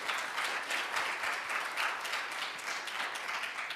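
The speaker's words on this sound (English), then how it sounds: "So that's a big applause." Conference audience applauds poster award winners at a European patient-organisation conference, a steady dense wash of many hands clapping at moderate distance, no voices over it.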